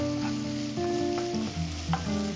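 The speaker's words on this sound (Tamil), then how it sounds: "வெங்காயம் வதங்கிட்டு இருக்கட்டும்," Onions sautéing in a pan for a Tamil fish or prawn curry give a steady close sizzle and crackle throughout, with no voices.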